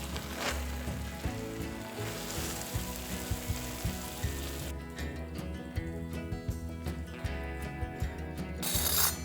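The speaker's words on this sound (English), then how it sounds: "Using a spatula, carefully rub the melted cheese around the burrito, adding more cheese as needed to coat it completely." A cheese-coated burrito fries in a pan while a spatula rubs melted cheese around it, giving steady crackling sizzle with frequent scraping clicks and knocks throughout, fairly close and continuous.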